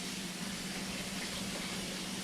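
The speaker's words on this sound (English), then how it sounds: "just pour a little bit of cold water over that bad boy" Cold tap water runs steadily over drained pasta in a kitchen sink, a continuous even splashing rush with no voices.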